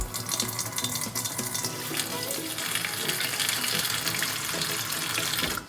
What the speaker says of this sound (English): grab your kettle and then just fill it up with water to the level that you need